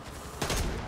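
Burst of gunfire in the co-op zombie shooter Back 4 Blood, a short loud rattle of rapid shots erupting after a quieter moment of background game ambience.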